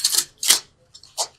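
A deck of angel cards is shuffled by hand during a tarot reading, giving a few quick papery riffling bursts close up, separated by short pauses.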